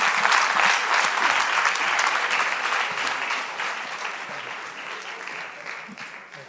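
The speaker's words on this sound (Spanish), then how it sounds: "Un aplauso." Audience at a talk breaks into warm applause, a dense sustained wash of clapping that starts loud and gradually fades over several seconds.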